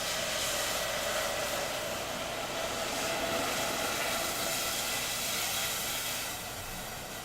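Bo ssam cooking with a steady, loud hissing sizzle, a broad continuous crackle that holds for several seconds and eases slightly at the end.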